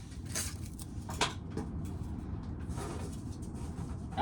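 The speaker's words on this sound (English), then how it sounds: "you guys can hear the wind hitting the corn crib door." Wind gusts bang a corn crib door on a farm during a corn-shelling day, with a sustained roar of wind and a few sharp knocks and rattles standing out.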